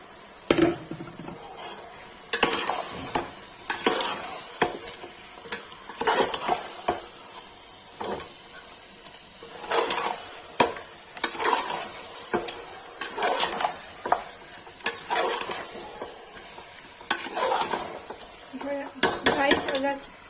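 Chicken tossed into roasted masala in a kadhai for restaurant-style kadhai chicken, with repeated metal clinks and scrapes of a spoon against the pan and a soft sizzle underneath, close and fairly loud, with occasional talk.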